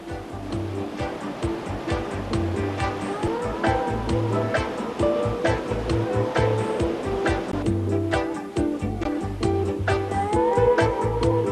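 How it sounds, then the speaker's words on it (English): Rushing water churns steadily at the standing wave of the Durban wave pool, a continuous broad roar of surf with frequent splashing crackles and no pauses. "This is a standing wave, perfect for practicing surf moves"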